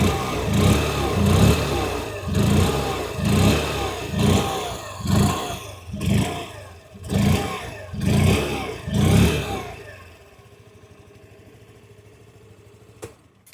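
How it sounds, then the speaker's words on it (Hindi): A 2026 Hero Destini 110 ZX 110cc scooter's engine revs repeatedly in rhythmic pulses, about eight throttle blips, then settles to a quiet idle near the end. "आइए अब सुन लेते हैं इस स्कूटर की एग्जॉस्ट नोट।"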